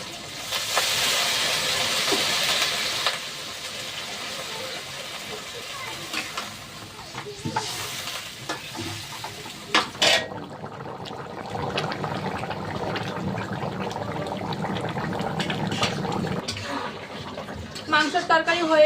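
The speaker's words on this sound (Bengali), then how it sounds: "মাংস কাঁচা হয়ে গিয়েছে এবার জল ঢেলে দেবো" Water poured into a pot of cooking meat: steady hiss and sizzle, then a rush of pouring and bubbling as the liquid hits the hot pot, with occasional stirring clanks and a person talking throughout.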